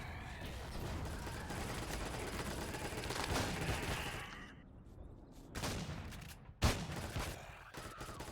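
Enemy gunfire in the game Empyrion Reforged Eden 2 near an abandoned power plant, dense, continuous firing at moderate level with brief gaps and a few sharper bursts toward the end.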